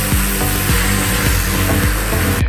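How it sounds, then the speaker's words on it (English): A pressure washer blasts water across a Ferrari 348's body panels, stripping back washing-liquid suds: a loud, steady broadband hiss runs continuously, with a low rhythmic pump pulse thumping roughly every half second beneath the spray. "pressure washer."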